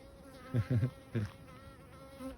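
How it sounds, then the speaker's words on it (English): A bee buzzes close by around a beekeeper, trying to sting, a thin steady hum with a few louder, nearer buzzing passes bunched together. "There's a little bee trying to sting me as I'm talking to you."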